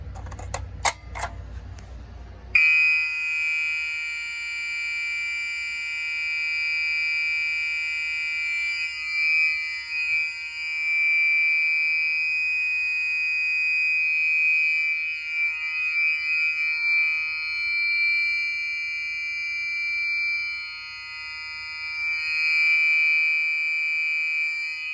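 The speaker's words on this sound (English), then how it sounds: "Gentex SHG isn't too loud, but it's still loud." A Gentex SHG horn sounds during a fire alarm test on a Notifier SFP-10UD panel, blaring a loud, continuous electronic tone that starts abruptly after a few brief clicks and holds steadily to the end.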